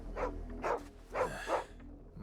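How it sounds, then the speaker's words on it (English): A dog in Final Fantasy XVI barks four times in a loose, uneven rhythm, close and fairly loud, over a quiet game background. "That's a dog."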